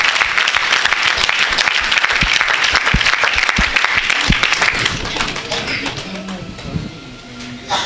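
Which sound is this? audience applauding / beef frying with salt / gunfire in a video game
audience applauding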